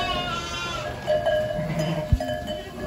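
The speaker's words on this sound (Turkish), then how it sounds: "Abi bu çanlar." Bells on a flock of sheep at a Turkish village pasture, a few soft metallic clanks and ringing tones heard at moderate distance over steady outdoor background, no talk.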